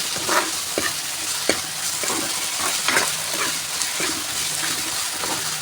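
Chicken pieces sizzle and fry in a pan while being stirred and tossed, with repeated scraping strokes over a steady close hiss, no voices.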